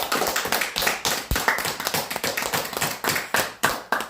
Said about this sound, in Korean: 큰 박수로 모셔주기 바랍니다.